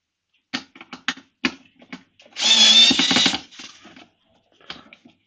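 A power drill or driver briefly whirs to remove screws from a BMW Vario pannier case, a loud buzzing burst of about a second and a half between scattered clicks and handling taps, up close.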